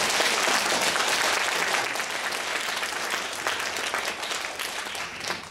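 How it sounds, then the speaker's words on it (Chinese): Sustained applause from a lecture audience at a charity talk series, welcoming a renowned Chinese writer; dense, steady clapping that fills the hall and tapers slightly toward the end. "首先让我们以热烈的掌声欢迎冯骥才老师的到来"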